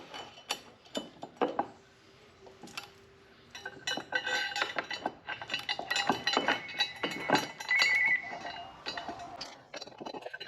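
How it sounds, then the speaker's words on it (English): Bolts fitted with washers are set into the bolt holes of KSPEED racing sponsons on a Kawasaki Ultra jet ski, giving close, scattered metallic clinks, ratcheting clicks and small scraping knocks in uneven bursts with brief quiet gaps. "Place the bolt with washer on it into bolt hole and then line it up with the fitting on the ski"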